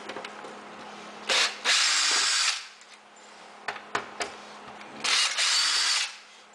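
A cordless drill runs at slow speed in two sustained bursts of whirring, with a few short clicks and knocks in between, loud and close with no talking.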